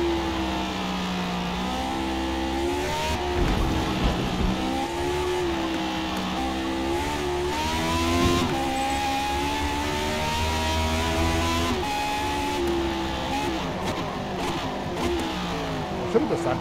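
Several racing video game car engines rev and whine continuously, rising and falling in pitch as they accelerate, with voices talking over the steady engine drone.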